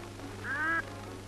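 A single duck quacks once on a lake in New Zealand, near a floating decoy, in a brief, moderately close call over a quiet, steady background.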